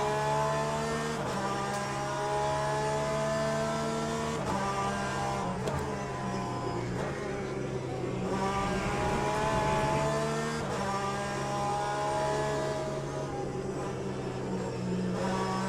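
Race car engine from the Le Mans Ultimate sim, droning steadily with clear harmonic pitch that rises and drops through gear changes and throttle lifts during a sprint race, loud and continuous with no talk.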